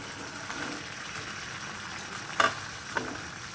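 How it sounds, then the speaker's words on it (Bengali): Chilli chicken being stirred in a pan with fried pakoras added, cooking over a low flame: a steady low sizzle underneath, with a few sharp utensil scrapes and clinks near the end. "আর ভালো করে নাড়িয়ে দেব। সঙ্গে ভেজে রাখা পকোড়াগুলো দিয়ে দেব।"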